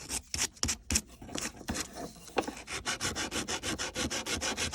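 Hand sanding of a sterling silver bracelet with abrasive grit, a close, quiet scratchy rubbing in quick back-and-forth strokes that start irregular and settle into an even rhythm.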